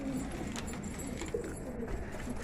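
Pigeons inside a small cage coo softly, low murmuring calls under a steady background hum, fairly quiet and continuous.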